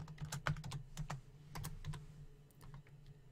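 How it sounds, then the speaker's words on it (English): Typing on a computer keyboard while entering a camera number in Photoshop text, with a quick irregular run of close, crisp key clicks over a low steady hum. "And you want to type out a camera number."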